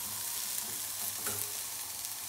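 Asparagus sizzles and crackles faintly in a hot pan, a soft continuous frying hiss with a few small pops and no voices.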